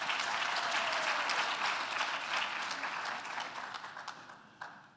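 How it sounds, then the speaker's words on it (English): Parents clap at a university graduation ceremony, starting as a full, dense applause across a large hall. The clapping thins and fades toward the end, leaving a few scattered claps. "Give yourself a round of applause, parents."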